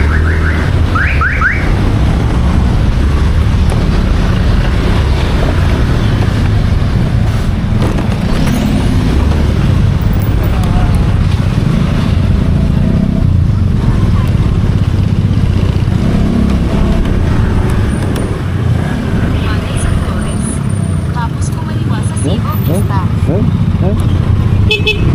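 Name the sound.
heavy road traffic with car horns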